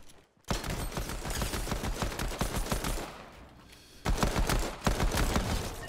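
Rapid pistol gunfire in a video game, dense runs of sharp shots in quick bursts, with a short pause before more fire resumes.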